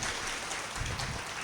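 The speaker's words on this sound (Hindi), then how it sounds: "जोरदार तालियां उनके समय" Steady, dense applause from an audience honoring a young Jain novice monk at a kalash-installation ceremony in Rani Bagh, Delhi, filling the whole moment at even loudness.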